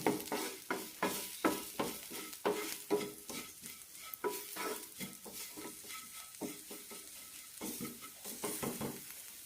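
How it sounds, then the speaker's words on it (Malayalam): Chili, garam masala, roasted coriander and turmeric powders are stirred in a hot pan for banana flower curry, with quick repeated scraping strokes in an even rhythm over a soft sizzle, close up and without voices. "മസാല നന്നായി മൂപ്പിച്ചെടുക്കണം"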